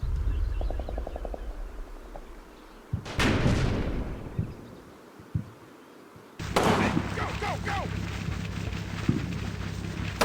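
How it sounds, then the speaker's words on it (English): Incoming German mortar rounds in the World War II game Combat Mission Fortress Italy, set around Vellebruca: a sharp, loud blast around three seconds in with a rumbling tail and a few scattered thuds, then a second heavy burst of firing and crackle later on. "so we do have incoming mortars from the Germans"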